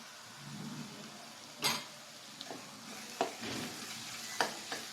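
Ginger-garlic paste with turmeric frying for potato bhaji, a steady moderate sizzle broken by several sharp scraping stirs of the pan, no voices.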